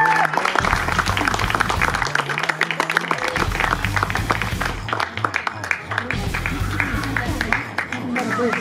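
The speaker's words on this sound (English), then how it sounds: "Clap it up for Jared." Audience at a high school football event applauding for a coach, a dense patter of clapping mixed with voices and crowd noise, loud and sustained throughout.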